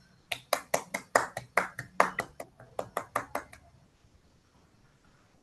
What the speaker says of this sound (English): Give me the big round of applause, Toastmaster Tina, for completing the great